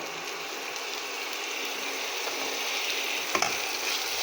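Tomato paste and salt being fried and stirred in a pan for an egg and potato curry, with a steady close sizzle and continuous scraping of a spatula, no voices.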